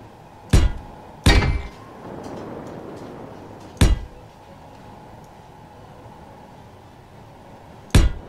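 Armor blocks are placed on a ship in the video game Space Engineers, heard as four sharp, heavy clunks at uneven intervals. A hum and faint rumble fill the gaps between them.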